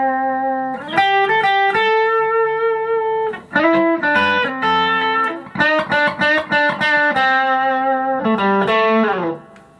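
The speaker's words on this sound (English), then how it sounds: "I could crank it till I got just the amount of distortion I wanted." Distorted electric guitar played through a 1969 Fender Princeton Reverb amp, loud sustained chords and bends with crisp attacks and brief pauses between phrases, close and up front with no talking.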